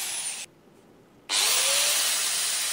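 A tire spins freely on its bearings, a hiss that drops away briefly and then returns louder and smoother with a faint rising whine as it speeds up.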